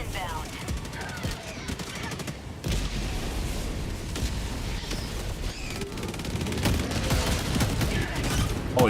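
A heavy weapon fires in a Helldivers 2 battle, with rapid, chunky bursts and booming impacts through the whole stretch, growing denser toward the end, while a voice talks over the gunfire.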